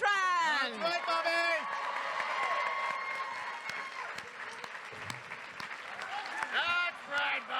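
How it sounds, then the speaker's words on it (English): Convention crowd applauding and cheering for actor Robert Beltran at a Star Trek Voyager reunion panel, loud sustained clapping with whoops, and an announcer's voice rising over it at start and end. "Let's give a round of applause for Commander Chakotay, Mr. Robert Beltran."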